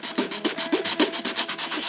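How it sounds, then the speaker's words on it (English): Steady back-and-forth strokes of 80-grit sandpaper rubbing a window by hand, rhythmic and close, about seven strokes per second. "I take a piece of sanding paper"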